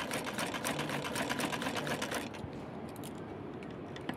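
Domestic sewing machine stitching through cloth, a fast steady mechanical whirr that runs loud for about two seconds, then stops and leaves quieter clicks and handling noise.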